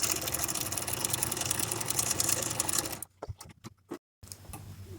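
A domestic sewing machine with a ruffler foot set to 1 and stitch length 8 gathers fabric in a steady, loud mechanical whir for about three seconds, then stops, leaving a few brief clicks and soft handling noises.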